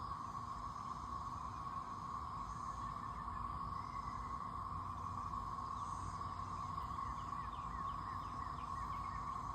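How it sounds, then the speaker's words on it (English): A steady cicada swarm buzzes continuously in the background near a spot where geese and goslings gather, a constant even drone with faint chirps above it and no talking. "The cicada swarm is still here too."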